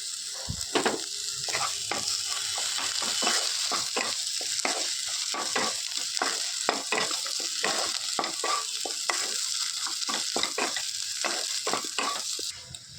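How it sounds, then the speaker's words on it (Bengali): Lote fish jhuri fries in a pan with coriander leaves, a spoon scraping and stirring in quick repeated strokes over a constant close sizzle. "এখন ধনে পাতা দিয়ে একটু নাড়ি চাড়ি নামিয়ে নেবো"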